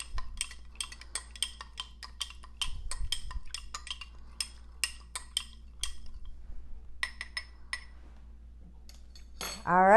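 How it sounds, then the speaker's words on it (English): A spoon stirs a hydrogen peroxide mixture in a container, clinking sharply and rapidly against the sides in quick irregular bursts, with a brief pause before the stirring resumes. "it's really helpful if you have a spoon and you can mix this all together"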